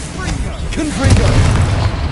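A deep boom from the Confringo blasting spell in the Hogwarts Legacy game, a heavy low rumble that swells about halfway through and lingers, with spell-casting effects and game noise around it.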